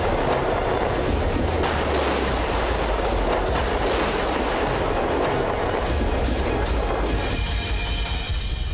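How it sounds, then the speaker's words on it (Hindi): Several Hezbollah tunnels in southern Lebanon are detonated at once by the Israeli army. The result is a loud, sustained roaring rumble broken by repeated sharp cracking bursts, with no talking. "कई सुरंगों को एक साथ डेटोनेट कर उड़ा दिया गया।"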